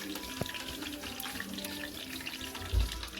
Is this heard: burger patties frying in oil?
yes